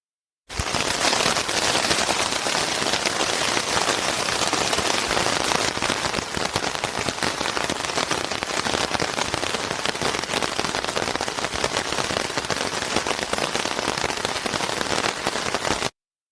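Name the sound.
raindrops falling on a tent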